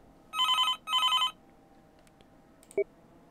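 A mobile phone in the Harambe Simulator video game rings with two loud, close electronic trill bursts, followed by a brief click.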